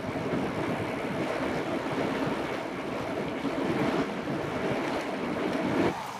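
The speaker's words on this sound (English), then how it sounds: "Wow, you can see the ocean." Ocean surf heard from a distance along a trail near Denmark and Albany, a soft continuous wash of waves mixed with wind noise on the microphone, quiet and with no speech.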